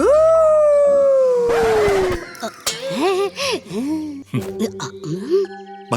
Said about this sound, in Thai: หมาวัดเรามักจะหอนเมื่อได้ยินเสียงระฆัง